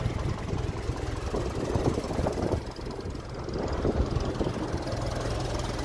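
A 1957 Ferguson 35 tractor with a TVO engine runs steadily nearby, a continuous low rumbling drone with slight surges and no talk.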